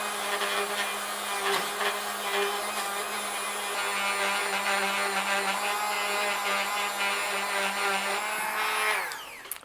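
A cotton buffing wheel on a motor hums steadily while polishing a part from a vintage Pfaff 30 sewing machine, with faint scraping contact noise before the motor winds down at the end.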